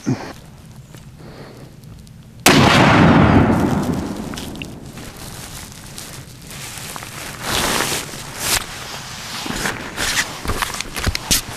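A single .308 rifle shot fired with a 200 grain Hornady ELD-X handload over Hodgdon BLC 2 powder cracks loudly and sharply, then fades into a long decaying rumble, followed by scattered shuffling and handling noises close by.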